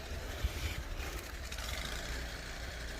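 Gusting wind outdoors in snow, a broad, faint rushing noise rising and falling across the moments, with low rumble underneath and no talk.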